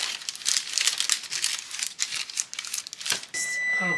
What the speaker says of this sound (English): we want to line a baking sheet with parchment paper